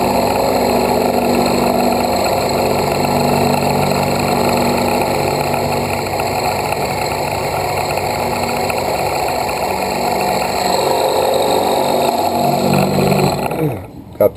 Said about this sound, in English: So step one, let's get us a hole in this pot here.